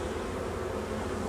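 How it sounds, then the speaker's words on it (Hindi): Honey bees buzz in a dense, continuous hum as they are shaken off hive frames into a lower box during requeening, a steady swarm drone close by with no talk. "तो इन मक्खियों को हम नीचे वाले में झाड़ देंगे"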